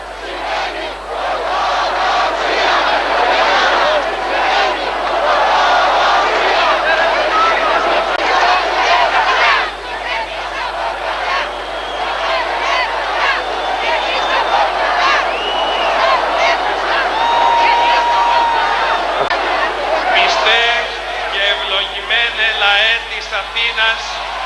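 A large crowd at an Orthodox church rally in Athens with the archbishop, rousing loud rhythmic chanting and cheering that runs continuously throughout, with speech mixed in.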